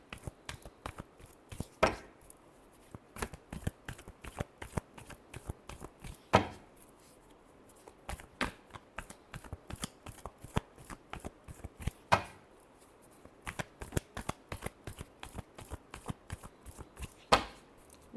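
Tarot cards are shuffled by hand in quick, irregular bursts of soft slaps and riffles. The sound is close and quiet and goes on for a long stretch.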